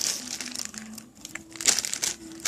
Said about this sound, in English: doesn't squish their squishies, but only does the crumpling noise